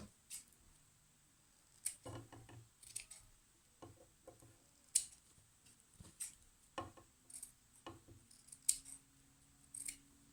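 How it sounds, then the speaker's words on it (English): Scissors trimming the fabric corners of a sewn shaped face mask, a series of crisp snips spaced irregularly over the span, close and quiet in an otherwise still room, with no talking. "Now I'm going to trim my corners"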